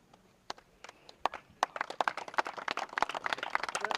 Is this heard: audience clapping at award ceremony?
yes